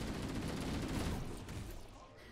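Dense rapid machine gun fire rattles through a firefight in Halo: Combat Evolved on PC, a fairly quiet continuous burst of overlapping shots that tapers off toward the end.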